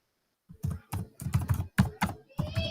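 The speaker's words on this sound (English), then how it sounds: "I cannot see what you're typing." Keystrokes on a computer keyboard tapped in several quick bursts with short pauses, close and moderately loud, no voices.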